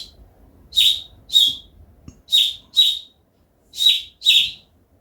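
Six short, high whistled chirps imitate birdsong, blown through a straw into a dried fruit pod, coming in pairs with brief pauses, close and clear over near silence.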